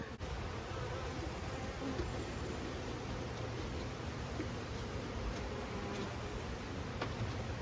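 Honey bees buzz steadily around an open hive frame during an inspection of overwintered nucs, a dense, continuous droning hum close by with no voices.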